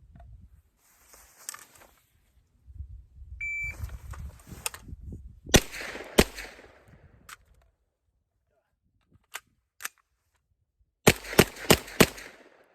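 Rifle shots at a shooting range ring out as sharp, sudden cracks, some single and some in quick clusters of three or four. A short electronic beep sounds early on, and quiet rustling fills the gaps.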